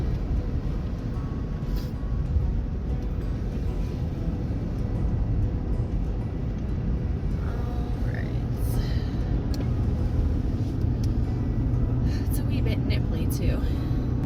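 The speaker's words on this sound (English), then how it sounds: "We are on the highway." A camper van drives along a sunny freeway heading toward Las Vegas, giving a steady, continuous road roar and engine drone throughout, with occasional faint rattles and people talking over it.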